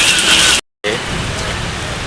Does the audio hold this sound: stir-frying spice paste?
no